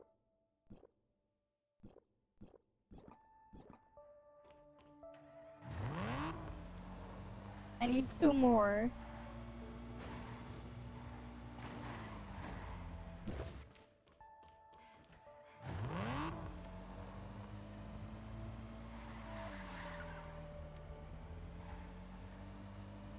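A PlayStation car in Tower of Fantasy drives with a steady engine hum that rises and settles, after a few short taps; a voice speaks briefly over it.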